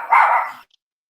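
A dog gives a single short, sharp bark, close and loud, then falls silent.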